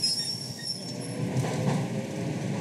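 Moscow commuter train pulling away, a rolling rumble of wheels on rails with faint high squeals and a brief clank, heard steadily and fairly close without speech.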